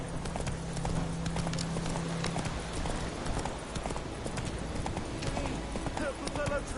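The horse Roach clip-clops along in Witcher 3, a steady rhythm of hoofbeats over a dense game soundscape, with voices talking over the hooves.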